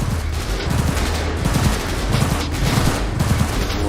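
Rapid automatic gunfire rattles almost without pause in a shootout in the video game Cyberpunk 2077, loud and dense from start to end.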